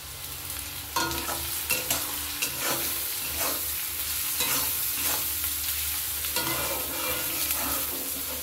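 Ingredients for restaurant-style mixed fried rice frying in a kadai with a pinch of salt, a steady sizzle broken by regular rhythmic scrapes of stirring, close up with no talking.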